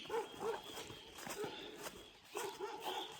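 Dog barking on a mountain trek path to Nag Tibba in Uttarakhand, several short, moderately distant barks and yips in uneven bursts, with a person talking nearby.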